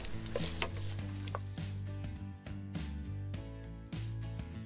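Chopped garlic cooks among softened vegetables and pork lardons in a pan for a Pyrenean lamb and bean stew, giving a steady low sizzle with occasional stirring clatter and a sustained tonal hum running underneath.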